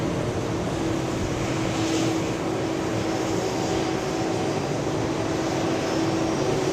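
Jet airliners at JFK airport in New York rumble steadily in the distance on a hot summer night, a broad continuous engine roar with a faint whine, no talking.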